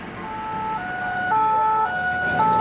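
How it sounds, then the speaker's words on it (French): Emergency vehicle sirens sound through a village street, a loud two-tone wail alternating evenly in pitch, close and steady with no talk. "Un peu plus haut dans le village, des sirènes retentissent."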